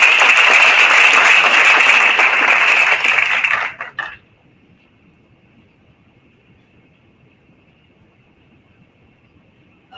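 A large audience at a college event gives a loud burst of continuous applause that cuts off abruptly partway through, leaving near silence with a faint steady tone.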